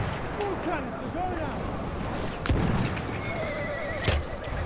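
A horse in the video game Battlefield 1 neighs in a few wavering whinnies over clip-clopping hooves. Battle noise and sharp bangs surround it, and a voice is faintly present.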